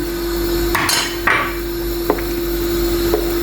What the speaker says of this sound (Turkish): Şimdi tahta kaşıkla karıştırıyoruz.